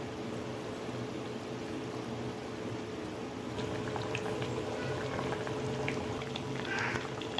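Rava appam deep-frying in hot oil, a dense foaming bubble and hiss that holds steady and swells slightly toward the end, close up with no talking.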